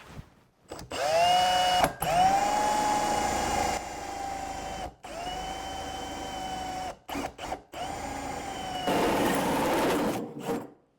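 A power drill bores into the metal enclosure of an inverter in an off-grid solar build, running in several loud bursts of whining motor with short pauses between them, close up and with no talk.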